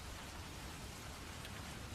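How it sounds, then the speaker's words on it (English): Steady rain falls outdoors as a faint, dense wash of drops with no distinct individual hits, continuous and even throughout with no voices. "It's raining here"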